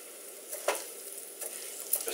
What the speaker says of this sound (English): gently stir this for about 3 minutes, or until you'll see the rice becomes opaque